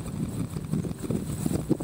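A pregnant, registered Tennessee walking horse mare, about 15.5 hands with trimmed hooves, clip-clops in a soft, steady rhythm nearby, with light wind noise and no talking.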